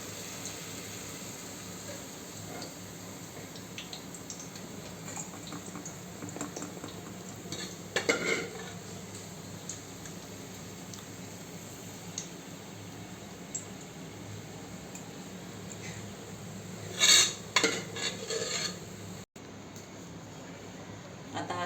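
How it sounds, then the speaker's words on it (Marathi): Onions fried red are scooped out of hot oil in a pan while the oil sizzles quietly throughout. Occasional metal scrapes and clinks of a slotted spoon come up close, with a louder clatter near the end. "आता हा सगळा कांदा काढून घेतलाय।"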